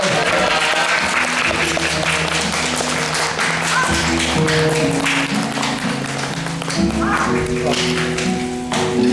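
Audience applause during a post-show talk at a theatre after the play Almost Maine: sustained clapping fills the room beneath a steady musical backing, loud and continuous throughout.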